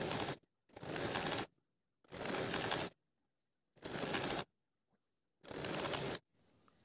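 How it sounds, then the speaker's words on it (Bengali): A sewing machine runs a straight seam on a salwar pajama in five even bursts of rapid stitching, each about a second long, separated by short quiet pauses, close and clear. "আমি ডাইরেক্ট সেলাই দিছি"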